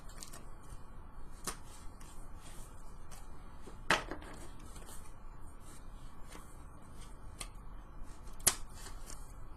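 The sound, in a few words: handling and separating D&D magic item cards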